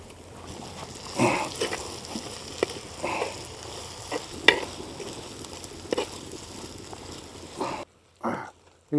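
Ginger garlic paste frying in a pan for a Telangana-style goat curry, a soft steady sizzle with occasional scraping stirs and brief clinks, close but fairly quiet.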